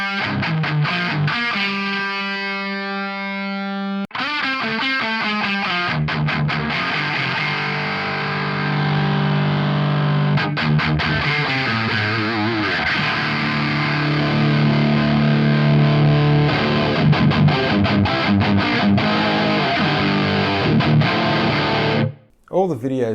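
Electric guitar played through a heavily distorting, cracked Boss DS-1 pedal, with sustained crunchy chords and notes, some single-note lines, and brief pauses between phrases.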